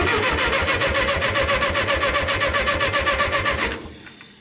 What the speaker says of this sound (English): it ought to turn over.